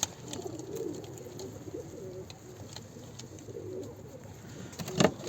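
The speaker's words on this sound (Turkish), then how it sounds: "Bakın kuş bu." A pigeon coos softly several times over a low background hum of outdoor traffic, the calls mid-distance and unhurried.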